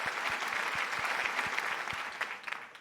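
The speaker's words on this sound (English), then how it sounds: "Thunderous applause." Sustained applause fills a high school awards ceremony hall after a string player from the symphonic band receives an award, steady dense clapping from a crowd, fading slightly near the end.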